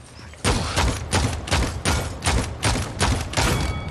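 Androxus's nerf weapon fires in Paladins, a rhythmic series of about eight punchy blasts spaced roughly half a second apart, loud and close with a short thumping tail on each.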